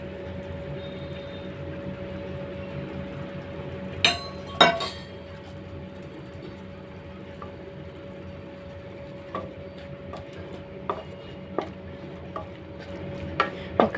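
Boiled vegetables being stirred in a cooking pan on a stove, sparse scattered clinks and scrapes of a spoon against the pan over a steady low hum, close and quiet.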